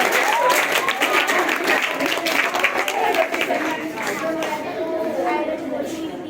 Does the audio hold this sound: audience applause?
yes